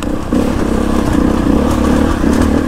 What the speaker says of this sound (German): Das Motorrad muss unter dir arbeiten.